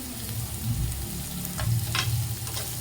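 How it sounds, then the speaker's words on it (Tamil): Onions frying and being stirred in a pan for prawn and broad bean poriyal, a dense continuous sizzle with a couple of brief scraping strokes, close and steady, without speech. "வெங்காயம் ரொம்ப வதங்க வேண்டாம், ஓரளவுக்கு வெங்காயம் கலர் மாறினா போதும்."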